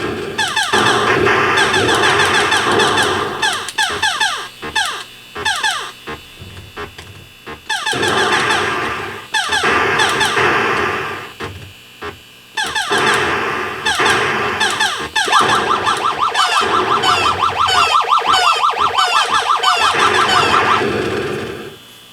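A repaired 1979 Atari Asteroids arcade machine plays its game sounds, dense bursts of squeaky electronic tones and chirping effects that stop and start in loud, busy stretches with brief gaps between them.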